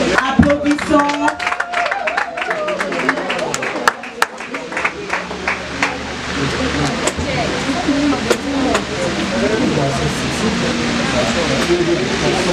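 An audience at a family ceremony claps and applauds in a dense, continuous patter that rises and then holds steady, with voices underneath.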